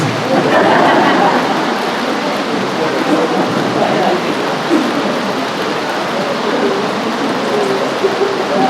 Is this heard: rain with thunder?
yes